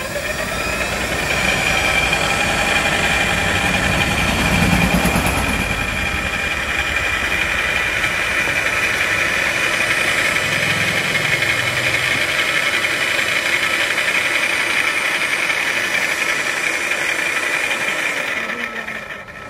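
A 72V 2200W brushless BLDC geared motor with an aluminium housing and cooling fan runs on a test bench. It gives a steady, loud electric whine and gear hum that holds evenly for about twenty seconds before easing off at the end.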